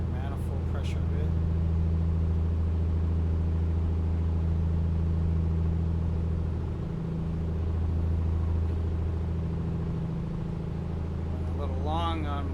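A light aircraft engine in a flight simulator game drones steadily and evenly as RPM is pulled back to 1700 for the base turn, while a voice talks over it.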